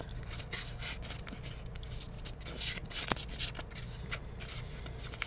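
Craft material being folded by hand during a craft project, giving a soft, steady rustling and rubbing close by with occasional light crinkles, fairly quiet, with no speech.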